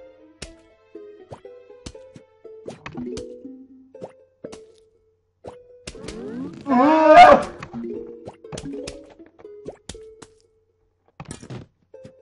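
Short plopping and popping game effects from Plants vs. Zombies ring out in a sparse series, with a louder burst of chiming tones near the middle before more scattered pops.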